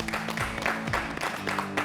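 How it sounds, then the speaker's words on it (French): Studio audience applause at a French talk show, a steady wash of clapping that holds for about two seconds with some scattered voices mixed in. "Des applaudissements qui sont dédiés à Daouda."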